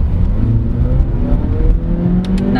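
A 2020 Mazda 3 Elite sedan with a six-speed automatic accelerates under paddle shifting, a steady loud engine drone with a rising whir heard from inside the cabin.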